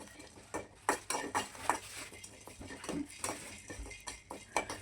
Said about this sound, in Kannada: ಇದಕ್ಕೆ ಒಂದು ಸ್ವಲ್ಪ ಕಾಳು ಮೆಣಸನ್ನ ಇದರ ಜೊತೆ ಸೇರಿಸ್ಕೊಂಡು ಮತ್ತೆ ಫ್ರೈ ಮಾಡ್ಕೋಬೇಕು